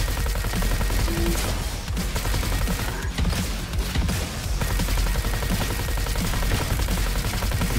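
Rapid gunfire in Roboquest rattles continuously and loudly as an eyeball enemy is shot, with dense overlapping bursts throughout.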